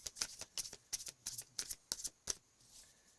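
Tarot cards shuffled and drawn: a run of about eight crisp, evenly spaced riffling card snaps, close and fairly quiet, followed by a short pause with light handling, no speech.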